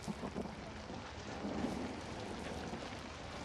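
Steady rain with rolling thunder inside the video game Outlast, a dense continuous hiss of falling rain with a low rumble swelling midway, faint and without voices.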